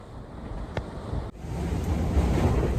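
Ocean waves and wind wash around a racing sailboat at sea during the Vendée Globe, a steady broad rush of surf and wind noise that swells louder partway through after a brief dropout.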